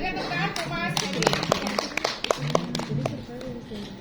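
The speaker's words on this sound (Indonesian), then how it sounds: "kita berikan tepuk tangan ke Mas Hedi" Audience at a training session clapping hands, a scattered burst of claps of mixed rhythm from a small group, moderately near, with voices talking over and around the applause.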